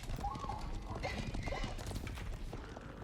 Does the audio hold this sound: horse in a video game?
yes